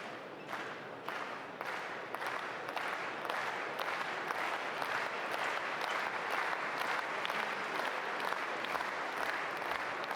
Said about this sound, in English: So the applause from the crowd, continuing to pump up their European